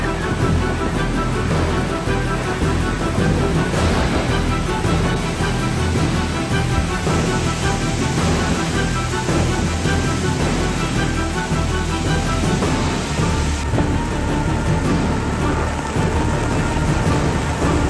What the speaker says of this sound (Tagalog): Grabe yung ulan, sobrang lakas.